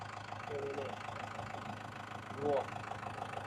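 A 2004 Isuzu D-Max with the 3.0 litre diesel engine idling, a steady low rumble throughout, with someone speaking over it.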